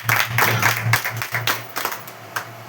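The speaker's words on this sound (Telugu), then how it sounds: "గట్టిగా చప్పట్లు కొట్టండి ఒకసారి." An audience clapping at a Women's Day Bible message, a steady crowd applause that swells and fades in bursts over a low hum, with no talking.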